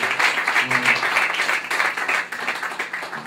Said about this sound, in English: We need to give another hand clap.